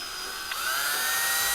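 An electric drill, used in a DIY smoke extractor build, whines briefly, starting with a short burst and then settling into a steady, high-pitched hum that holds to the end.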